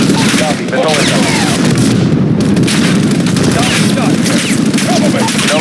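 Dense, continuous gunfire and rapid automatic bursts with explosive booms from an incoming missile strike in a military shooter video game, loud and unbroken throughout with faint voices mixed into the battle noise.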